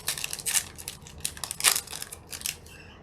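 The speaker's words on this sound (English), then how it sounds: "Oh, let's open this pack up." A MetaZoo trading card pack wrapper being torn open and crinkled up close, with a few crisp crackling bursts of foil plastic in quick succession, no talking over it.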